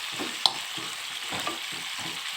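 Spices for a spicy chicken curry with coriander frying in a pan while being stirred, a soft continuous sizzle with rhythmic scraping strokes about every third of a second and one brief sharp clink, close and fairly quiet, no voices.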